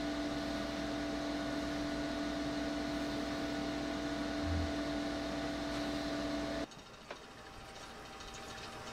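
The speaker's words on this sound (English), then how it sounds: "it's been another 12 hours or so, and the stir plate's still going" A magnetic stir plate runs under a yeast starter, giving a faint, steady electrical hum with a constant tone that drops abruptly to a quieter, different drone partway through, followed by a small click.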